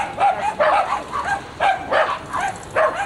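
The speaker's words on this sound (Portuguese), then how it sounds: "quantos cachorrinhos" Several small dogs bark and yip in quick bursts close by, a rapid uneven series of high-pitched barks over about three seconds.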